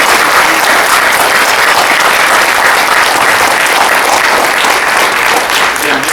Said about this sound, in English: if I just could ask for just another round of applause for Jacob Moore